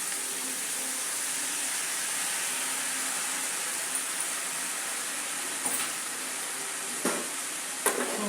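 Ground masala and Kashmiri chilli fry in a pan for a cauliflower, potato and capsicum pulao, a steady close sizzle as they are stirred, with a few sharp scraping clicks toward the end and no talking.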